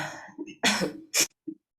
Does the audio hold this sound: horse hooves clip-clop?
no